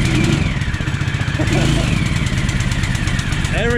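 A Jaws of Life hydraulic power unit's small engine runs steadily at a close, loud idle with a busy mechanical chatter throughout, no voices over it.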